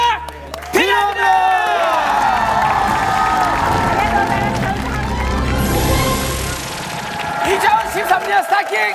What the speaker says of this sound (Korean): 포기하지 않고 끝까지 도전해준 엔젤라 사두 씨에게 여러분의 큰 박수가 필요합니다.